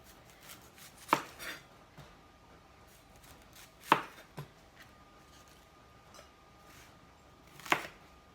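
A knife chops onions on a board for pineapple salsa being prepared for canning: a few sharp, isolated knocks spaced several seconds apart, each with a brief softer follow-up, close and clear with no talking.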